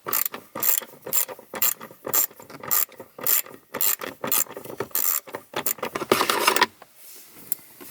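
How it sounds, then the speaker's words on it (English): A ratchet fitted with a 7mm socket clicks in loud, steady bursts as it backs a bolt out inside a Jeep during a phone and iPad mount install, the rapid pawl clatter repeating close up before stopping near the end. "You're going to need a 7mm socket to get that out."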